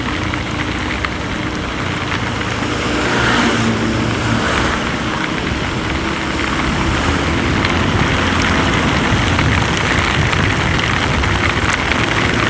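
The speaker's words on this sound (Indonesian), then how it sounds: "hujan-hujanan." Heavy rain hisses steadily while a vehicle drives along the Pantura road between Pekalongan and Purbalingga, a dense, constant wash of water and road noise with an engine drone beneath.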